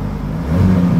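A 2023 Honda FL5 engine is revved after a cold start, a close, loud, steady droning hum that swells slightly in its second half.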